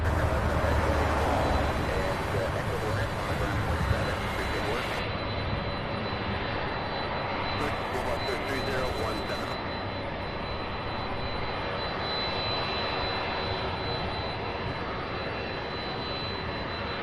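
Jet engines roar loud and steady as a Southwest airliner departs Louisville for Las Vegas, the sound staying constant and close throughout with no clear speech.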